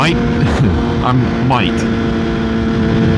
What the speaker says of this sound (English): maybe I'll just let you listen to the bike for a little bit if I ever get to some good spots for it